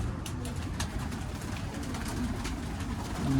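Pigeons coo softly in low, rounded murmurs from coops on a rooftop, beneath steady outdoor noise, with a few faint higher bird calls scattered throughout.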